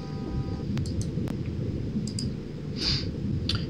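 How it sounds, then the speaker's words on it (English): A failing uninterruptible power supply gives a few sparse, sharp clicks over a steady background hum, with no one talking. "I'm replacing that UPS. I don't know if you guys can hear it clicking,"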